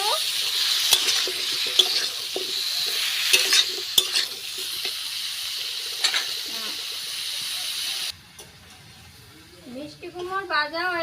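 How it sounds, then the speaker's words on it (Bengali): Pumpkin pieces fry and sizzle in a pan for a crab and pumpkin dish, with steady hissing and repeated scraping stirs, then the frying drops away and a voice speaks near the end. "মিষ্টি কুমড়োটারে একটু ভাজে নিমু।"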